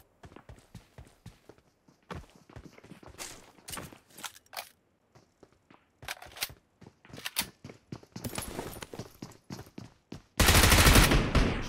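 Gunfire in the battle royale game PUBG Mobile: bursts of sharp, crackling shots in irregular clusters, growing denser toward the end and closing with a loud, sustained volley up close.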